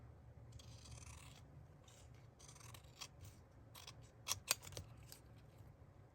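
Scissors snip through paper ephemera in quiet, close-up cuts, a soft rasping run of strokes followed by a few sharper snips, with no talking.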